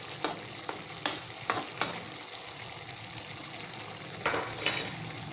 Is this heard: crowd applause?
no